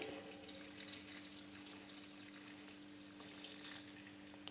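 Water is poured into coconut chutney, a faint, steady, unbroken trickle heard alone throughout.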